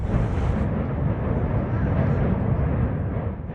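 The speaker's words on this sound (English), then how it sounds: "Someone nearby captured the initial explosion." A massive industrial fire explosion in Clinton, Michigan gives a loud, sustained roaring blast of broadband rumble that holds steady for several seconds and eases slightly at the end.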